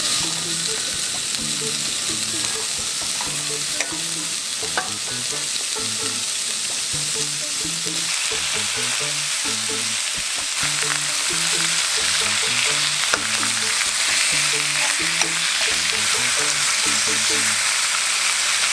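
Honeycomb-cut pork belly sizzles steadily in soy sauce seasoning, a continuous dense frying hiss from start to end, with gentle background music playing throughout.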